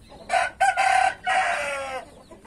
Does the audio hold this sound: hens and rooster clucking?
yes